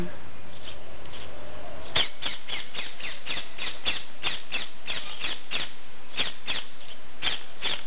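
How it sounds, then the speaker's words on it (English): A colourful rooster-type bird in an aviary in New Zealand gives a rapid series of sharp, loud squawks in quick succession, close by and without talking. "film of a rooster type bird. I've never seen it before."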